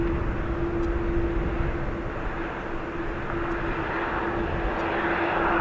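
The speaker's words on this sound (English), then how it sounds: "Omari, that's Aer Lingus's colours, green and white" Aer Lingus airliner in green and white colours at Dublin Airport, its jet engines producing a steady, loud roar with a constant droning tone throughout.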